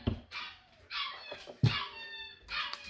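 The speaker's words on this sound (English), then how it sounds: "There's puppies in the background." Several puppies whimper and yip in short, high, wavering cries, one after another in a quiet indoor room.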